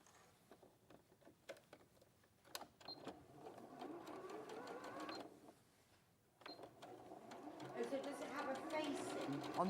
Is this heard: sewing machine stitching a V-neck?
yes